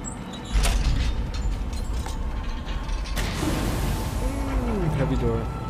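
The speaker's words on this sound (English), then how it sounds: "Heavy door." A heavy door opens in Far Cry 5, a grinding mechanical creak with ratcheting clanks under a busy game soundscape, with a voice speaking over it partway through.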